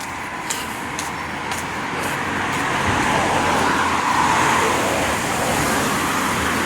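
Cars pass steadily on a busy UK road, their tyre and engine roar rising and filling the scene as vehicles rush by close at hand, with no talking.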